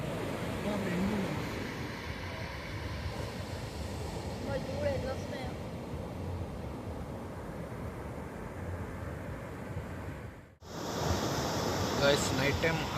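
Waves breaking on Goa's Anjuna or Vagator beach at night, a steady broad roar of surf that holds throughout, cuts off briefly near the end, then resumes just as loud.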